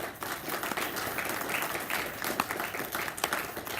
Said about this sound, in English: So give all of our sponsors another round of applause